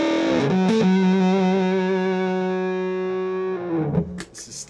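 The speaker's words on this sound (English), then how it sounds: "This is the Big Muff Pie, the Russian version by Electro-Harmonix. I really like this fuzz because it's got a nice creamy tone." An electric guitar plays through a Russian Electro-Harmonix Big Muff Pi fuzz pedal, giving a thick, sustained fuzz tone. A couple of quick notes lead into one long held chord that fades, then a brief scrape follows.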